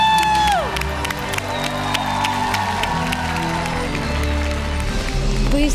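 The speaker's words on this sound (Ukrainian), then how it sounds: "Послухай ці оплески." Applause and cheering from a talent-show studio audience in Ukraine, crowd clapping and whoops carried under loud music with sustained tones, full and continuous from start to finish.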